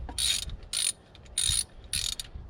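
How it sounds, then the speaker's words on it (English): Ratchet wrench working the last remaining bolt on a 1997 Toyota Tacoma 2RZ-FE engine, four bursts of quick clicking, close and fairly loud, with short pauses between. "We're gonna pull the one remaining bolt here."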